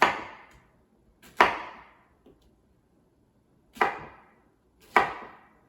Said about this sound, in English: don't want to cut it too thick for the freeze drying, just because it can tend to take a long time